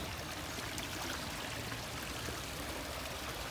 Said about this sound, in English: they've obviously channelized it to make it a feature, the little waterfalls and things